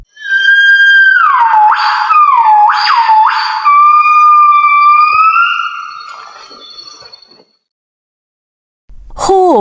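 A gibbon gives a loud, clear call of rising and falling whooping notes. The notes repeat in quick swoops, then slide into a long falling tone and fade out.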